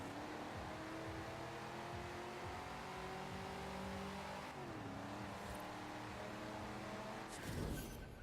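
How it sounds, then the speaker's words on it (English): Track car accelerating hard in first gear with tires spinning, a steady loud engine roar rising in pitch, briefly dipping at a shift-like break, then continuing, with a short noisy burst near the end. "This thing just rips tires in first gear"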